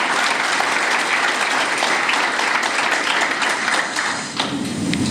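Audience applause fills a club gathering with steady, dense clapping from many hands, held at an even level throughout, with a slight dip near the end.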